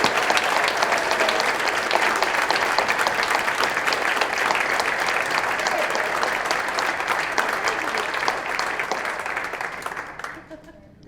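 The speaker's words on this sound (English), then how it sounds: "So let's everybody have one big last round of applause for Lillian Armstrong." Dense applause from the audience at the World Series of Birding awards brunch, a roomful of people clapping continuously and fairly loudly before fading out near the end.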